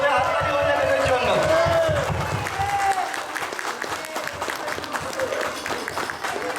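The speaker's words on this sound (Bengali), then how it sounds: "একবার জোরে হাততালি হয়ে যাবে এদের জন্য" An audience claps loudly for the child cast of a Saraswati Puja kids' drama. Dense applause runs throughout, and a few voices and a drawn-out tone can be heard in the crowd near the start.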